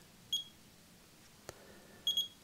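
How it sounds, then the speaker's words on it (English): Short electronic beeps from a small tonometer for measuring eye pressure: one brief beep, a tiny click, then two quick beeps close together, over a faint room hum. "We turn the device on, gives us a little beep,"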